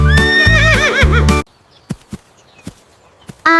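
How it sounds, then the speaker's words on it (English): A horse whinnies loudly with a long, wavering, high neigh over steady hoof clatter, then stops abruptly, leaving near silence with a few soft scattered taps before another burst at the end. "I am a horse, neigh, neigh, neigh, running fast throughout the day."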